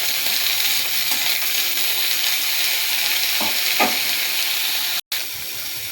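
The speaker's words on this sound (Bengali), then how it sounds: "বেগুনটা ভেজে নেব ভালোভাবে।" Eggplant fries in hot oil with garlic and green chilies, a continuous close sizzle broken by a couple of scraping stirs and a brief cut near the end.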